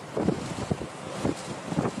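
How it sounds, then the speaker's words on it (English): Rough seas and strong wind on the coast of western India ahead of Cyclone Biparjoy: a continuous roar of gusting wind buffeting the microphone over surging waves, with no talk. "Rough seas, turbulent waves, and unnaturally high tides."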